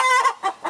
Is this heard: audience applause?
no